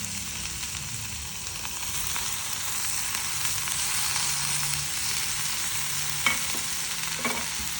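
Tomatoes hit golden-brown onions frying in a pan, giving a steady close sizzle with stirring scrapes and a couple of sharper knocks near the end.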